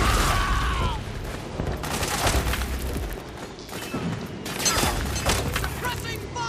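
Gunfire in Metal Gear Solid 4, dense bursts of rifle shots with crashing impacts and thuds, rolling in waves across several seconds, loud and close with a shouted voice in the mix.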